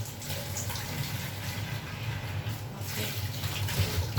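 Tap water running steadily into a kitchen sink while dishes are washed, a continuous close splashing stream, with a brief spoken word near the end.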